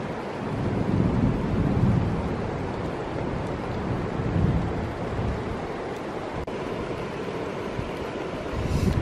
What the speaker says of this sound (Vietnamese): mưa quá là lớn luôn các bạn ơi